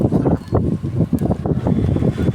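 Gusty sea wind at the beach buffets the microphone with a low, rumbling roar that rises and falls, with no talking.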